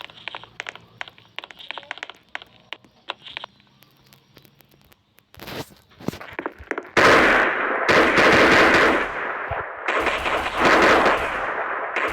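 Gunfire in the Roblox game: scattered single shots at first, then dense loud bursts of automatic fire with brief pauses between them.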